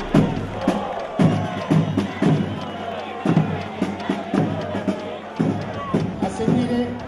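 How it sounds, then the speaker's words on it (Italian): Crowd applause and cheering from spectators at the Palio Sant'Agapito historical pageant, a steady mass of clapping with bursts of shouts, moderately loud throughout. "Un bel applauso per cortesia."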